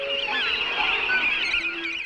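A breeding colony of seabirds on a steep rocky island off Newfoundland calls continuously, harsh honking and squawking voices overlapping loud and close with no pauses.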